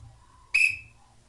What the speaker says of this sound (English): If you blow the whistle 3 times, that's a distress signal